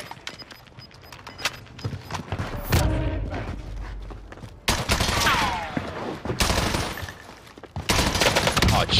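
Scattered gunfire from a team fighting in the Warzone video game, bursts of shots near and far with loud cracks and clatter amid game noise, faint talk underneath.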